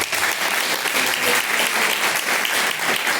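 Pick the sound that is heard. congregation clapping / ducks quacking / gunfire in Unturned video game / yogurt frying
congregation clapping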